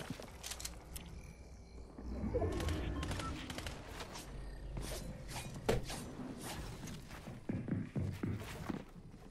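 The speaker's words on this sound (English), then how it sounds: "Getting shot on the side." Gunfire in Fortnite, bursts of rapid shots and scattered cracks at moderate distance, fairly quiet, with occasional footsteps and a player's voice in the background.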